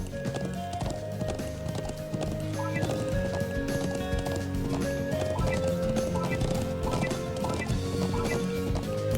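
Rapid clip-clop of horse hooves while riding in the video game Trails of Cold Steel, steady and continuous under layered game music, with an occasional whinny.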